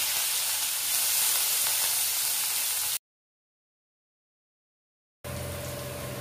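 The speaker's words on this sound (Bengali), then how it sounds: "এর মধ্যে দিয়ে দিচ্ছি একটা ছোট পেঁয়াজ কুচি করে।" Chopped onion and black cumin seeds frying in hot oil give a bright, steady sizzle, which cuts off abruptly into silence and then returns more quietly with a faint hum.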